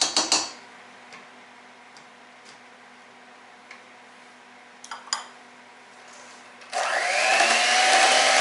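Cheesecake batter being mixed in a bowl, a few scattered clinks and taps of a utensil, then a loud electric mixer suddenly whirring steadily near the end.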